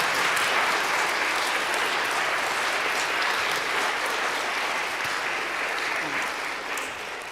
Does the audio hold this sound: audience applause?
yes